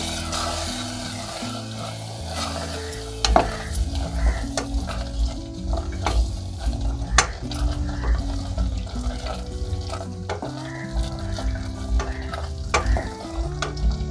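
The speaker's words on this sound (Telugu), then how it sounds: "అలాగే త్రీ స్పూన్స్ కారం వేసుకుందామండి అప్పుడు ఇది కూడా మొత్తం మిక్స్ చేసుకుందాం ఈ పేస్ట్లో" Chili powder is stirred into a masala paste in a pan for mutton curry, with repeated close scraping and clinking strokes over a low frying sizzle, continuous and with no talking.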